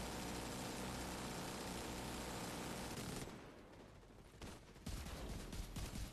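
Sustained rapid gunfire at the Boomer boss in a video game, loud and dense for about three seconds, then a quieter stretch before another loud burst of shooting near the end, with a steady engine-like rumble underneath.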